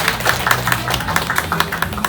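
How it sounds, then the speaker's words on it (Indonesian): Audience of women at an Islamic study gathering clapping in a loose, fairly rapid patter of hand claps, near and moderately loud, with no speech over it. "Boleh tepuk tangan yang ikhlas semuanya."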